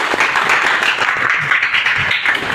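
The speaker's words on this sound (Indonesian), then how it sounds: "Tepuk tangan sekali lagi." Seminar audience at a lecturer certification training clapping again for a presenter, a loud close burst of mixed hand claps sustained evenly for a couple of seconds.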